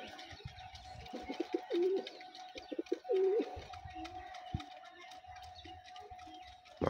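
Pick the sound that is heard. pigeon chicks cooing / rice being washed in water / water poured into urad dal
pigeon chicks cooing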